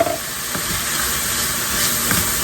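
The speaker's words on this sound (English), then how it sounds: "want to saute your onions until they're soft" Chopped onions sauté in a pan with cumin, chili powder, salt and black pepper, giving a continuous close sizzle and hiss with occasional stirring scrapes, alone and without talk.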